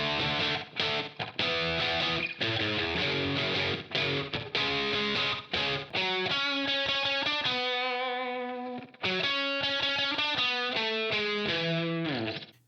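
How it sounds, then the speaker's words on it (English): A single-coil electric guitar plays a riff through amp gain and delay, with choppy distorted chords at first and then sustained repeating notes with echoing tails, loud and alone. "Oh, and I've put the delay on it to give that retro sound."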